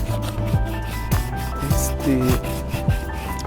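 Rhythmic back-and-forth rubbing of sandpaper on an electric guitar's wooden body, close and steady, with repeated scratchy strokes and no voices.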